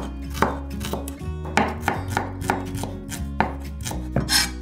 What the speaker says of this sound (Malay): Bawang merah kecil, iris nipis macam ni.